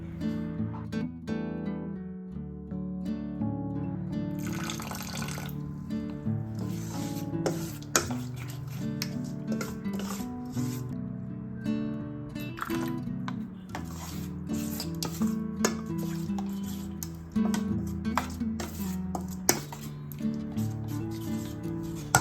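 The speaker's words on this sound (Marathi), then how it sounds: "परत ते आपल्याला एकदा छान हलवून घ्यायचं आहे आणि पुन्हा एकदा पाण्याचा अंदाज घेऊन त्यात आपल्याला थोडंसं पाणी मिक्स करायचं आहे" Dhokla batter is stirred in a bowl with a little water added, giving soft, quiet, continuous squelching and scraping with occasional small clinks and drips.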